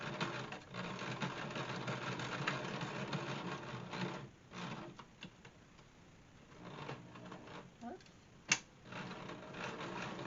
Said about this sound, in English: Finish sewing the end off.